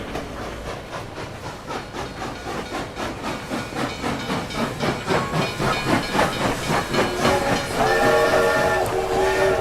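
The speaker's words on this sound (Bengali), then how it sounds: "ট্রেনটা একটা স্টেশনে এসে থামলো।" Rhythmic steam chuffing of a train, steady and fairly loud, slowing as it arrives, followed by a sustained whistle-like tone near the end.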